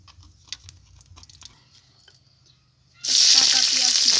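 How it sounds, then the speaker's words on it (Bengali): Oil in a kadai (wok) for a fig dish: faint light clatter, then an abrupt, loud, hissing sizzle that bursts in and holds steady to the end. "কড়াইতে তেল দিয়ে দিচ্ছি।"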